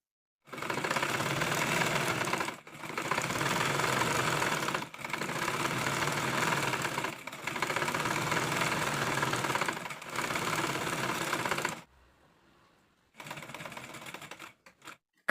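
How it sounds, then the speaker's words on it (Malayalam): A sewing machine stitching a cigarette pant seam runs in five long steady whirring bursts with short pauses between, then falls silent before a final shorter run, close and fairly loud with no talking. "ഇനി നമ്മൾ മുകളിൽ നിന്ന് ആ ഒരു പോയിന്റ് വരെ സ്റ്റിച്ച് ചെയ്യാൻ പോവാണ് കേട്ടോ."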